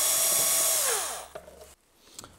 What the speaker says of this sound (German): hier vorne die Hauptabdeckung mit den beiden Schrauben öffnen